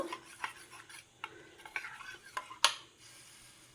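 Onion rasam ingredients are stirred and mixed in a metal vessel: a spoon repeatedly scrapes and clinks against the sides, with one sharper clank near the end, close and fairly quiet.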